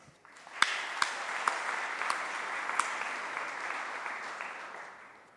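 A conference keynote audience breaks into clapping, a few sharp early claps swelling into steady, moderately distant applause that tapers off at the end.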